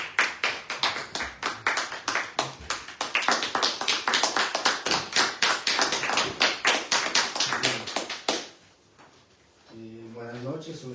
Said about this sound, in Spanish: Fuerte aplauso para el compañero Carlos.